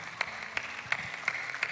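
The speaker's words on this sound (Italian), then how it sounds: "Facciamo un applauso a Matilde." A small audience at a live festival broadcast in Quartu Sant'Elena claps in a short burst of sparse, distinct hand claps, about five sharp claps over under two seconds.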